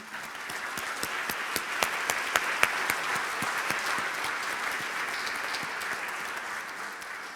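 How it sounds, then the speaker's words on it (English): An audience at a neighborhood community meeting gives a round of applause, steady clapping from a modest crowd with a few sharper nearby claps standing out, gradually thinning toward the end. "Let's give them a round of applause."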